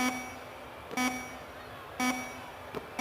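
Short electronic buzzer tones in an NBA Live basketball video game between the Lakers and Spurs, three brief faint buzzes spaced about a second apart over quiet arena background.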